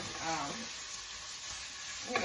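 Crumbled sausage sizzles and crackles as it fries in a pan for a low-carb Zuppa Toscana soup, a steady soft hiss with brief stirring scrapes near the start and end.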